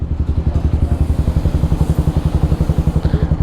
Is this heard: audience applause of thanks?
no